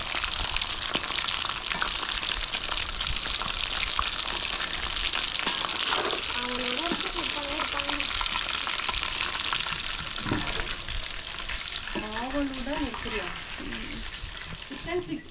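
Chicken 65 deep fries in hot oil, a dense continuous bubbling sizzle close by, with a voice speaking intermittently over the frying.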